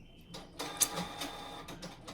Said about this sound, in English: that's the printer making all that sound.